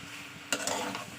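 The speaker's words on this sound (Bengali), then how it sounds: "এবার এটা ভালো কষিয়ে নেবো একটু মশলার সঙ্গে" Liver, potato and mixed vegetables being stirred and sautéed with spices in a pan, a soft sizzle with a sudden scrape of the spoon partway through, close and brief, no talking.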